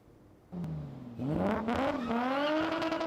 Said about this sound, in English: Your ears are blasted by the sound of roaring engines and the screeching of tires